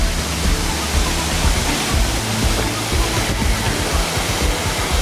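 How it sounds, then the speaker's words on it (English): A large waterfall near Revelstoke roars as a loud, dense, unbroken rush of falling water, close and steady throughout with no other sounds breaking through. "That is one heckin' sick waterfall."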